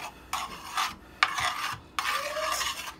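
Butter and garlic sautéing in a pan on the stove while cooking chicken parmesan and shrimp alfredo, heard as a steady soft sizzle broken by scraping stirs of a utensil against the pan, close and alone.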